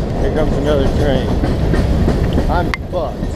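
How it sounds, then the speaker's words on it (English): A train rumbles past close by, loud and steady, with metallic squeals and clatter rising near the end. "Here comes another train."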